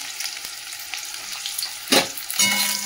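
Chopped onions dropped into a hot spice tempering in oil for a mustard greens curry, a close steady sizzle with a sharp burst as they hit the pan, then stirring scrapes and a louder renewed frying hiss.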